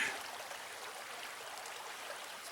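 A small creek flows past a campsite with a steady, close, soft rush of water, alone and with no talk.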